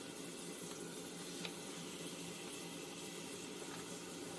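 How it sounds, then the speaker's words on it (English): Steady, faint sizzling hiss from beef browning in a hot pot, constant and crackly with no voices. "Yeah, it's browning up. I hear it sizzling in there."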